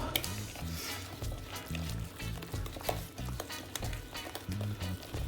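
Cupcake batter is stirred in a bowl, with a steady wet scraping and sloshing of the spoon. A soft low hum runs underneath and faint clicks show through.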